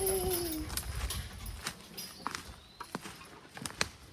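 A horse team starting to pull, uneven hoof clops and thuds at a moderate distance, with a brief tonal whine at the start and a quiet background.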